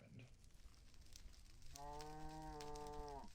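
A cow in the Minecraft video game lets out a single drawn-out moo with a clear harmonic tone, rising out of quiet low background noise partway through.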